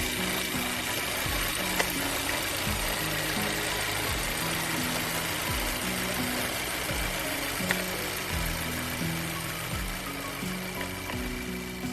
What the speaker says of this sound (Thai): เรามาฟังเสียงของรถญี่ปุ่นกัน มาฟังกันเลย